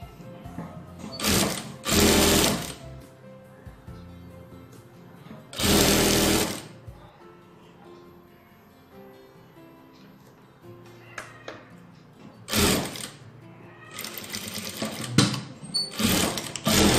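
A sewing machine stitches a V-neck band on a blouse in several short bursts of rapid, loud clattering separated by quieter pauses with faint handling sounds.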